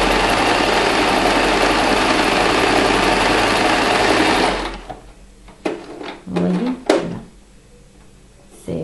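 A sewing machine stitches a zigzag seam in a loud, continuous mechanical whir for several seconds, then stops abruptly, leaving scattered handling clicks and knocks nearby.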